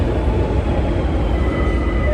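A metro train at Catalunya station in Barcelona makes a loud, steady rumble with dense, continuous noise filling the platform throughout and no clear talking.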